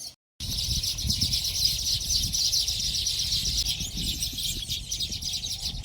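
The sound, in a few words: weaver birds calling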